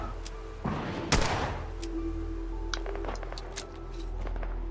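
Pipe revolver rifle in Fallout 4 firing .45 rounds: a sharp close shot near the start of the sequence, followed by scattered fainter pops and clicks over a steady low game ambience.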